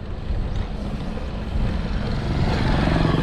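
A motorcycle passes on a mountain road near a scenic view deck in Claveria, Cagayan, its engine a steady, fairly loud rumble that swells as it draws closer over about three seconds, with some wind noise.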